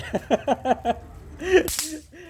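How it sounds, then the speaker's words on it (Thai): A single sharp, loud bang like a firecracker going off, right after a few short voiced sounds from nearby people. "ตะกี้ระเบิดทีเดียวดังปึ้งเลย"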